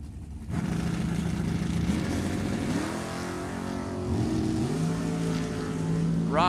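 A 1966 Chevelle drag-race car's engine idling and revving at a drag strip, a steady low rumble that climbs in pitch as the throttle opens.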